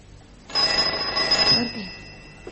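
A telephone bell rings in one sustained, loud, trilling burst in a film scene, then stops, with no talk over it.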